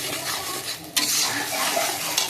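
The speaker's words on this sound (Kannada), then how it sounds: "ಚೆನ್ನಾಗಿ ಫ್ರೈ ಮಾಡುವ ಎಣ್ಣೆಯೊಟ್ಟಿಗೆ" Ground egg masala paste fries in oil in a pan, a dense close sizzle with spoon-scraping stirs that turns sharply louder about a second in, with no voices.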